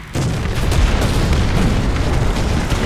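A tank cannon firing in War Thunder, a loud, dense rumbling boom that sustains throughout as a heavy low roar, no talking.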